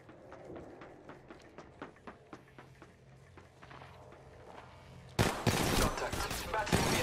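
Rapid bursts of gunfire in a first-person shooter video game, a string of sharp shots that then turns into a dense, loud barrage, with faint voice chatter underneath.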